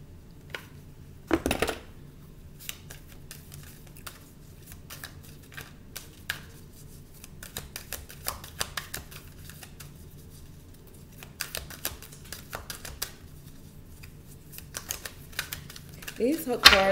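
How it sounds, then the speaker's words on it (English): Playing cards are shuffled with irregular crisp flicks and taps spread over the stretch, close and fairly quiet. "These hook cards are so hard to shuffle."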